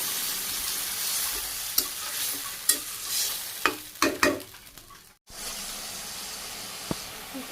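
Vegetable curry with soybean chunks simmering and sizzling in a pan after a little water is added, with broad steady hiss and several sharp stirring scrapes near the middle, a brief dropout, then continued bubbling; no talk.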